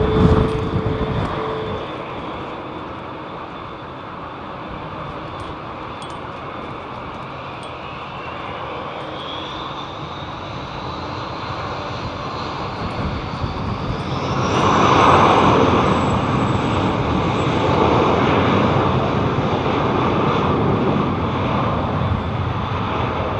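An Air France airliner takes off at London Heathrow, its broad engine roar building and swelling loudly around midway as it passes close, then holding strong as a high whine climbs above it.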